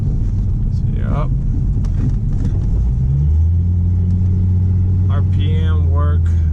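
Idling 2005 Ford Mustang engine, a steady low rumble that deepens and grows slightly louder midway, with someone talking briefly over it at the start and near the end.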